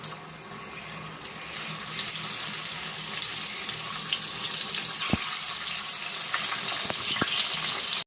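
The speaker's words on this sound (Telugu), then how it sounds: "ఎగ్స్ వేసుకుందామండి దీంట్లోనూ ముందు ఎగ్స్ ఫ్రై చేసేసుకున్నాం" Eggs fry in hot oil in a pan with a steady, bright sizzle that holds throughout, broken by a few sharp ticks and pops near the end. No voices are heard.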